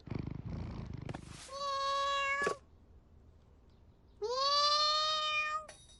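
A cat meows twice, long drawn-out cries separated by a short pause, close and clear after a brief rustling start.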